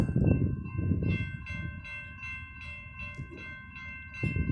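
A freight train rumbles past close by in Plymouth, Michigan, with steady low rolling noise, rhythmic wheel clatter and a sustained high metallic whine over it.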